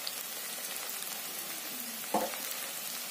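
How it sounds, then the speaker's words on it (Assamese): Three dried red chillies frying in hot oil on a stove give a steady, quiet crackling sizzle, with a brief louder pop or splash just after two seconds. "এতিয়া মই পিচি থোৱা এই শুকান জলকীয়া তিনিটা দি দিছোঁ"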